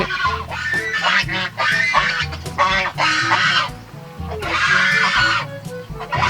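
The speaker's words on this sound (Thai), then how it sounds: "เป็ด เป็ดกับไก่" A busy, loud chorus of ducks and chickens, honking and quacking duck-like calls overlapping constantly, close by with no pauses, at a small zoo.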